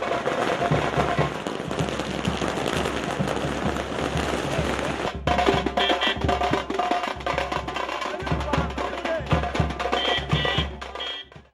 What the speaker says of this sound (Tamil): திரு டிடிவி தினகரனுக்கு பட்டாசு வெடித்தும் பூங்கொத்து கொடுத்தும் கழகத்தினர் சிறப்பான வரவேற்பு அளித்தனர்